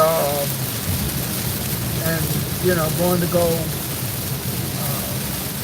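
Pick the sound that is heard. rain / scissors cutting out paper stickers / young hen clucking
rain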